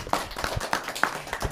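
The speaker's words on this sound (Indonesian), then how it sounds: "tepuk tangan dong buat yang bertanya." Brief scattered clapping from a small audience at an Islamic Q&A talk show, a handful of distinct, uneven hand claps over about a second and a half.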